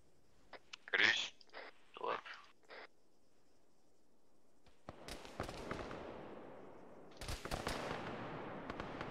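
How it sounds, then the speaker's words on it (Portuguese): Sharp gunshots crack in the video game Arma, a few separate loud bursts followed by sustained rattling fire later, while players talk over the action. "Estamos a levar aqui o tiro."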